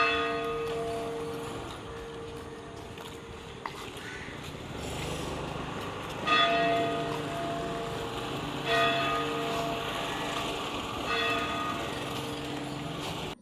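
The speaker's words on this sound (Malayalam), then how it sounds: "പള്ളിയിൽ മണിയടി കേട്ടപ്പോഴത്തേക്കും കുർബാന തുടങ്ങാനായിട്ടുള്ളൊരു സമയമാണ്." A church bell rings before Mass, its sustained ringing tone hanging in the air with a few louder strokes spaced a couple of seconds apart, heard at a distance with no talking.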